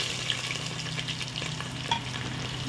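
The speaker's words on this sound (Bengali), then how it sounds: "তারপরে যে আমি পেঁয়াজটা কেটেছিলাম সেই অনিয়নটাকে ঢেলে দিচ্ছি।" Sliced onions fry in hot oil in a pan with chillies, pepper, cloves and cinnamon for chicken biryani. A steady, close sizzle crackles continuously with faint stirring sounds.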